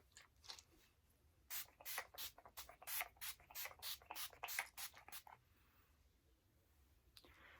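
A rapid series of short, hissing pumps from a setting spray, about a dozen bursts close up, then quiet.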